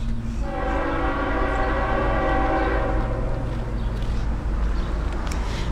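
A train horn sounds in a long sustained blast over the steady rumble of a passing train in a small Texas town, loud and close, fading slightly toward the end.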